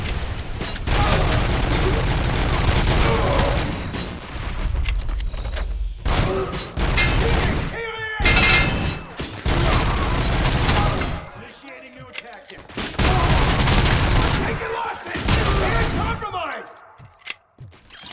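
Sustained gunfire and rapid automatic bursts in the video game RoboCop: Rogue City, loud and dense across most of the stretch, with brief lulls and heavy thuds, under a voice barking commands.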